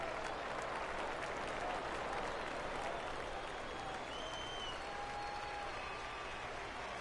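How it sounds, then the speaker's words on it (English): A minor-league baseball crowd at a Midland Rockhounds vs. Springfield Cardinals game rises and cheers on a full 3-2 count, a dense, steady roar of applause and shouting with a few whistles that holds throughout. "Crowd gets up for the 3-2."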